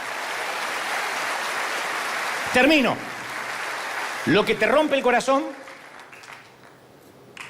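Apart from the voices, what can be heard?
audience applause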